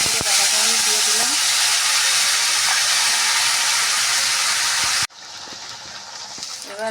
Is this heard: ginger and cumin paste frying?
yes